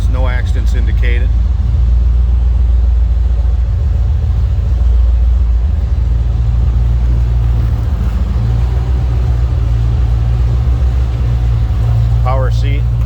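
A 1981 Chevrolet Corvette coupe engine runs just after a cold start, a loud, steady low rumble close by that holds even throughout, with brief higher squeaks at the start and end.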